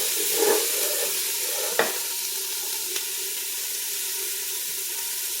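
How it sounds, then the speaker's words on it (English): Ingredients for a red lentil chicken soup stirred and sizzling in a hot pot, a steady close frying hiss with a couple of sharp utensil clicks against the pot. "And we're going to let all this stir around."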